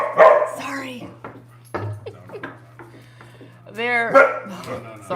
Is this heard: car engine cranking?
no